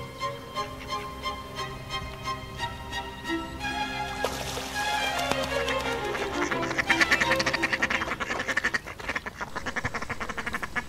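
Mallard ducks quack in a park setting: a run of short, evenly spaced quacks opens, then denser overlapping calls build over steady water-like background noise, with no talk.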